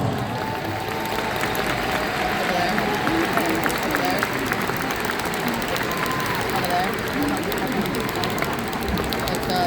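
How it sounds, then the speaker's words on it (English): An audience applauding at an event as partners on stage and in a VIP section stand, a dense, steady wash of clapping filling the whole stretch with crowd noise beneath. "please stand for a very worthy round of applause"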